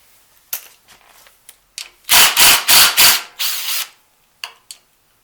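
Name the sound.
hose pulled off Kohler Courage engine valve cover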